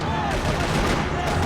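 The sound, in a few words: gunfire in the video game Max Payne 3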